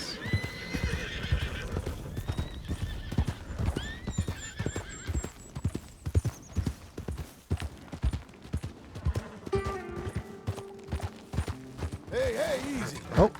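Steady clip-clop of hooves throughout in Red Dead Redemption 2 video game, with several horse whinnies and snorts rising over it, close by and moderately loud.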